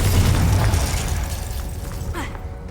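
A Confringo fire spell explodes in Hogwarts Legacy with a loud, rumbling boom that decays over a couple of seconds under a low game backdrop.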